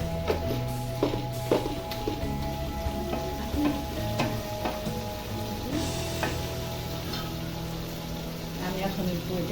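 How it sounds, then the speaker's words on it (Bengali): Beef for Old Dhaka-style tehari, cooked with Radhuni packet spice mix, is fried down in a pan with a steady moderate sizzle, broken by intermittent spoon scrapes and clatter over a faint constant hum. "এখন মাংসটা আমি ভালো করে কষিয়ে নিব।"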